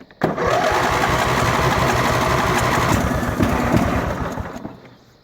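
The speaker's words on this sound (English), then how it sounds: "Sometimes the ignition key sticks and the starter keeps going." A riding lawn mower's starter cranks steadily and loudly without the engine catching, a continuous mechanical churn that holds for about five seconds before cutting off.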